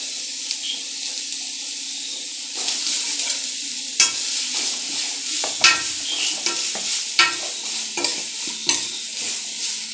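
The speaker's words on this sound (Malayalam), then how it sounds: "സവാള വഴറ്റുന്നു." Onions sautéing with salt in a hot pan, a steady bright sizzle close by, broken by repeated scraping stirs of a spoon that come more often in the second half; no voices.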